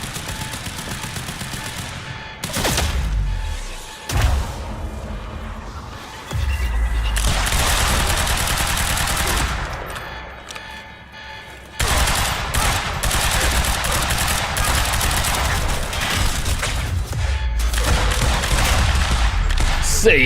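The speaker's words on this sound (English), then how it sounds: "He's got a belt fed machine gun." A belt-fed machine gun in Quantum Break fires long, loud sustained bursts broken by brief pauses, with heavy combat noise around it.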